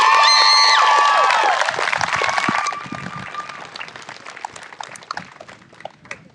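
A crowd at an 8th grade promotion ceremony bursts into loud applause and cheering, with a high whistle or shout at the start, then the clapping thins and fades into scattered claps.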